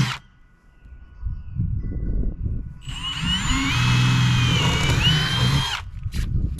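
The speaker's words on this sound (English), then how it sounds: "Drill some holes on the other side." An electric drill drilling holes while installing a Minn Kota Ulterra trolling motor runs in one steady, whining burst of about three seconds, close by, after some quieter handling noises.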